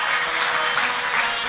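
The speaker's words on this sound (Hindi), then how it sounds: "पुनः एक बार जोरदार तालियों से स्वागत।" Loud, continuous applause from a crowd at a religious satsang gathering in a hall, steady clapping filling the whole moment with no voices over it.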